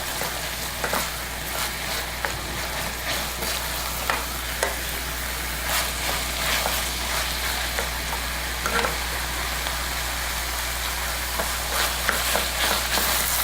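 Tomato paste cooking with vegetables in a pan for chili beans, a steady close sizzle and fry with scattered scraping stirs, under a constant low hum and with no talking.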